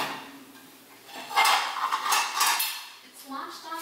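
Dishes and cutlery clatter and clink in a kitchen, a burst of bright knocks and scrapes in the middle with lighter clinks after, close and moderately loud.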